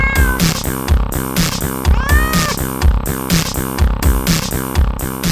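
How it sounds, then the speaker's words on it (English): Kittens meow in a steady run of high, rising and falling calls, close and fairly loud, set against a rhythmic music bed with a strong repeating beat. "It's time to release the kitty cats!"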